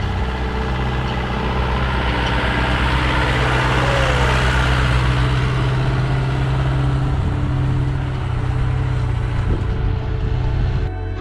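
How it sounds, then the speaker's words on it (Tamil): A 4x4 off-road vehicle labors up a steep mountain track in four-wheel drive, its engine a loud, steady drone with a broad rumble and gravelly noise throughout and no talking. "இப்போ நம்ம வண்டி பார்த்தீங்கன்னா 4 வீல் டிரைவ் போட்டு தான் வந்து நம்ம மேலே ஏற்றணும்."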